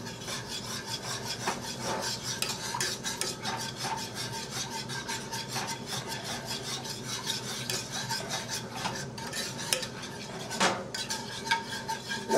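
A spoon or utensil steadily stirs and scrapes through a thick meat loaf mixture in a bowl, producing continuous close rubbing and squelching at a low, even level.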